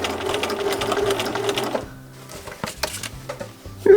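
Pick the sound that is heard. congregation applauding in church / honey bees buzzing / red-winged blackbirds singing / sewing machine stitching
sewing machine stitching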